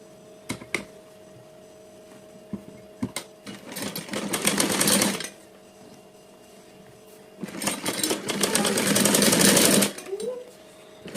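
Sewing machine stitching an umbrella frock, running in two sustained bursts of rapid whirring stitches separated by quieter pauses with light clicks and handling noise.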